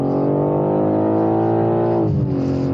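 BMW M3 Touring engine pulling hard on a mountain road, a loud, smooth, steady drone heard from inside that climbs evenly in pitch before a quick dip and recovery as the gear changes.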